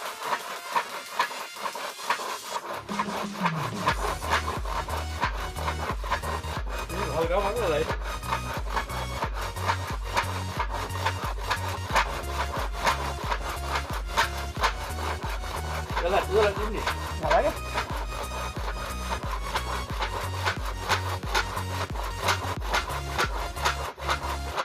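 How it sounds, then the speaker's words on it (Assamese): A handsaw cutting through a wooden bed post to level it, with steady rhythmic back-and-forth rasping strokes close by that keep going for a long stretch without talking. "এইটো খুঁটা কাটি সমান কৰিছোঁ।"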